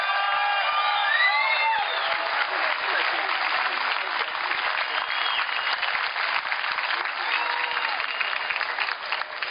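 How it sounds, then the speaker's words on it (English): Loud audience applause with cheering, whoops and whistles from a large crowd, sustained and dense from start to finish. "I want you to give him a loud round of applause."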